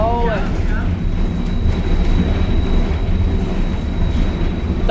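A steam locomotive train runs steadily with a continuous low rumble and rolling clatter, loud and close, while a high whine holds throughout.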